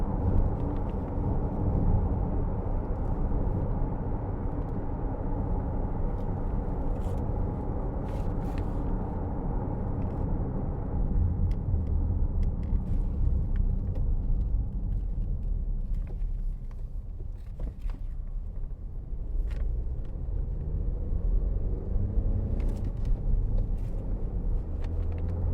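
A 2013 Honda CR-V 2.0 i-VTEC S 2WD drives along a motorway, its engine and road noise forming a steady low rumble from inside the cabin, with a slight dip in tone midway as the gears change.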